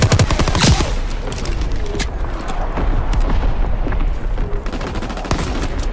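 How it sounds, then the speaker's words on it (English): Division artillery and gunfire pound away in the Call of Duty WWII multiplayer beta, a loud, dense barrage of rapid shots and booming blasts with no letup. "Firing division artillery."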